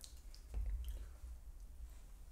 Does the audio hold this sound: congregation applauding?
no